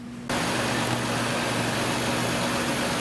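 A 2010 Chevy Impala engine with a vacuum leak idles steadily and close, a constant low hum that starts abruptly and holds even to the end.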